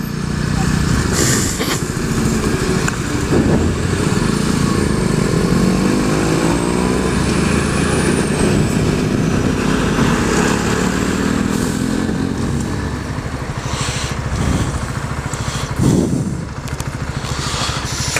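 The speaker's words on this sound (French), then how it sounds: "petite balade en moto avant de rentrer." A motorcycle rides through traffic on a short ride home from work, its engine droning loudly and steadily with rising and falling revs and passing vehicle noise throughout.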